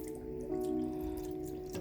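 Rice wine and toasted sesame swishing inside a blender jar while it rinses, a close, steady liquid wash over a low, even motor-like hum that swells slightly midway.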